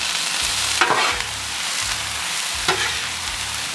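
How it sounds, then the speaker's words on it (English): Onions and mushrooms fry in olive oil on a Blackstone griddle, a steady close sizzle broken by a few spatula stirs and scrapes, with no voices over it. "You get a little olive oil down and drop the onions and the mushrooms right in"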